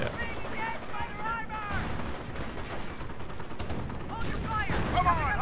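Ostwind flak panzers firing in the video game Company of Heroes make dense, rapid bursts of autocannon fire and crackling battle noise, continuous and fairly loud across the scene.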